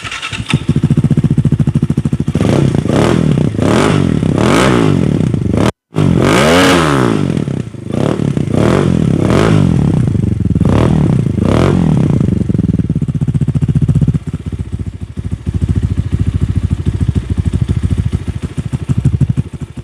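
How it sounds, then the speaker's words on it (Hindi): A 300cc Zhongshan trail dirt bike engine runs loudly up close, revving repeatedly in rough bursts with a brief cut, then settles into a steady rattling idle. "ठीक है जी, ट्रेल बाइक अपना टिपिकल साउंड दे रही है।"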